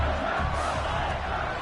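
A college football stadium crowd roars in a sustained, dense wash of cheering and whooping after a Wisconsin versus Purdue punt return, loud and continuous throughout.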